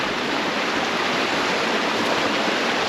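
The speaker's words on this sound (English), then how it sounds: "We're walking down this brook or river, whatever you want to call it, heading for the ocean." A brook runs down toward the ocean among cliffs near the Bains Brook waterfalls, its water rushing steadily and loudly as a dense, continuous wash with no talk over it.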